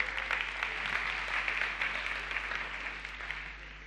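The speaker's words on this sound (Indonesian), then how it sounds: "Berikan tepuk tangan buat mereka." A church congregation claps together during a sermon, a steady, moderately loud wash of applause over a constant low electrical hum, with no voices over it.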